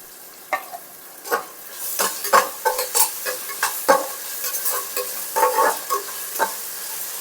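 Chopped mint sizzles in hot oil in a pan for bagara rice, with irregular scraping stirs and soft crackles breaking through a quiet background, close and unaccompanied by talk.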